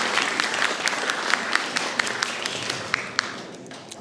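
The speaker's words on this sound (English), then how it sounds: "Let's do one more round of applause." Audience applause for musicians after a performance at a panel talk, a moderate burst of many hands clapping with a few sharp individual claps standing out, steady for four seconds.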